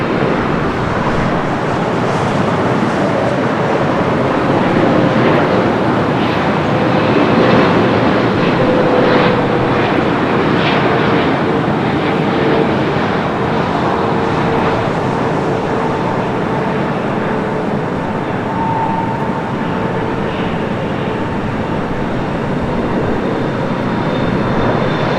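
An Air France airliner, flight 22, at LAX airport in Los Angeles gives a steady, loud, broad jet roar that holds evenly for the whole stretch with no talking.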